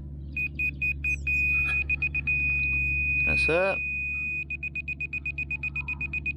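A construction laser level used for kerb laying emits loud, rapid repeated beeps, then a steady tone, then beeps again, outdoors with someone speaking briefly over it.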